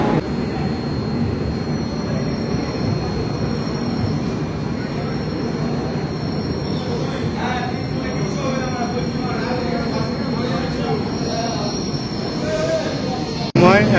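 Sealdah–Ajmer Express pulling out of platform 13 at night, a steady loud rumble of rolling wagons with faint wheel squeal and clatter throughout, a brief heavier thump near the end.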